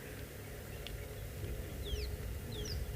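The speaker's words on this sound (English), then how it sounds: "the birds are calling" Birds call in the African bush during an afternoon safari in South Africa: a few faint, brief sweeping chirps over a steady background of low wind and rumble.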